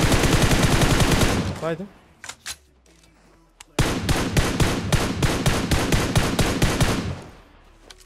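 Two long bursts of rapid automatic fire from PUBG Mobile, loud and close, split by a short pause holding a few isolated shots and a brief spoken word.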